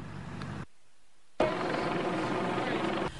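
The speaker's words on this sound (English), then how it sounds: "The roar of the Michigan State Police helicopter brought Michael Bridges out of his home." A Michigan State Police helicopter roars overhead during a shooting response in Southfield, a steady loud rotor and engine drone that cuts out briefly and then returns just as strong.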